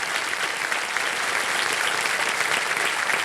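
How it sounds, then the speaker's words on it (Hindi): Continuous thick applause from a TV quiz show studio audience, loud, close and unbroken throughout with no voices standing out. "तालियां बज जाएं इनके लिए।"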